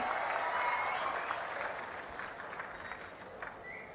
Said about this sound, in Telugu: గట్టిగా చప్పట్లు కొట్టి వాళ్ళని కూడా మీరు అభినందించాలి